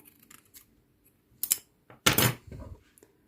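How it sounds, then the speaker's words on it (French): Scissors snipping white yarn after crocheting an amigurumi tiger keychain, a few brief close metallic clicks and one sharper cut amid quiet. "je vais couper le fil blanc"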